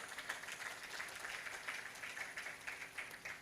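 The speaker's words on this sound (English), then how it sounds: "A round of applause for him, please." Audience applause at a media training event in Africa, honoring the Commissioner of Information of Abia State; many hands clapping steadily at moderate volume, with scattered louder claps and no speech.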